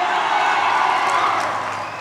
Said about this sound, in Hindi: पवन भैया के लिए दिल खोल के तालियां